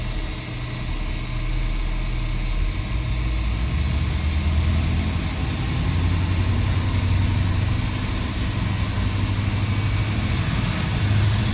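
Chevrolet El Camino V8 fitted with Jegs long-tube headers running on a dyno, a loud, constant deep engine drone with a low rumbling exhaust note that holds steady and close throughout, with no talking.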